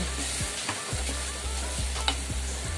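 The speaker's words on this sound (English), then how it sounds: "So just stir" A spoon stirring a vegetable sauce in a pot just taken off the fire, with steady scraping strokes repeating over a constant sizzling, bubbling hiss, close and alone without voices.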